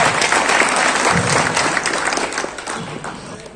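Loud, dense applause from the crowd at a Samajwadi Party workers' meeting in Kiratpur, strongest at the start and slowly fading, with faint voices underneath.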